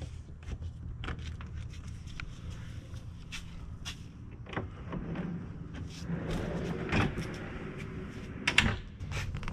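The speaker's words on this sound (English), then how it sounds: "the top drawer folds back into itself, or slides back into itself" A caravan drawer slides back into itself, with soft clunks and scraping knocks against a steady low background rumble.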